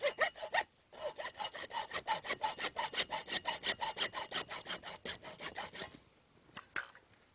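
A hacksaw cuts a 29 to 30 inch piece in about two dozen quick, even back-and-forth strokes, loud and close, after a brief pause near the start, then stops, leaving a few faint scrapes.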